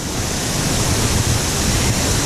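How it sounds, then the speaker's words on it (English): Water ride at Linnanmäki amusement park plunging down its grand waterfall at the end of a short rapids course: a steady, loud roar of rushing, crashing water fills the whole stretch without letup. "And then the grand waterfall."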